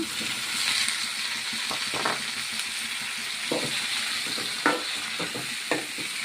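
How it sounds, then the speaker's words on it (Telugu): Tomatoes softening in hot oil in a pan for tomato bath, with a continuous bright sizzle broken by intermittent scraping and stirring knocks at close range. "టమాటాలు ఆయిల్లో బాగా మగ్గించుకోవాలండి"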